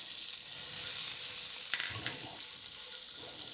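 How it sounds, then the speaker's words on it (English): Garlic sizzling in a hot Dutch oven, a steady close frying hiss that runs the whole time, with a couple of faint utensil clicks near the middle. "put this garlic in here real quick and let this start smelling off"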